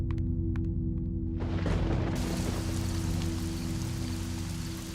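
Rain pours down in a film scene, a soft patter that swells abruptly into a dense, steady downpour over a constant low hum, with no one speaking.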